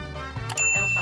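A notification bell sound effect rings out: a single bright ding that rises sharply and then hangs as a clear, sustained metallic tone, close and alone with no talk.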